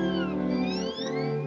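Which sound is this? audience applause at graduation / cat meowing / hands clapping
cat meowing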